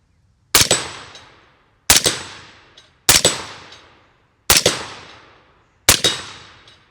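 Five loud, sharp rifle shots from Hornady Frontier 68 grain ammunition, evenly spaced about a second and a half apart, each with a short ringing decay and no talking.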